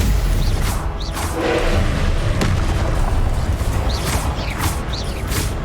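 Dense magical blast effects from the Confringo blasting spell in the Hogwarts Legacy video game during Percival's trial, loud booming rumbles with whooshing bursts recurring throughout over a continuous low roar.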